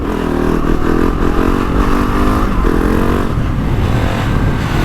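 GasGas ES 700 motorcycle running on wet, muddy ground, a loud, close engine drone that holds steady and shifts in pitch as the throttle varies.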